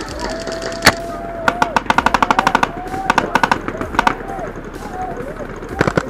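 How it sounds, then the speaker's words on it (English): A paintball gun fires first strike rounds outdoors on a muddy field, a rapid sharp string of pops in quick bursts with pauses between, close and loud, with faint voices behind. "I am using what is known as a first strike paintball round. It's a specialized, quote, sniper round"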